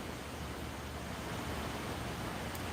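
Strong wind roars steadily through trees around a poolside house near the ocean on Hilton Head, a dense, continuous rushing with no breaks and no voices.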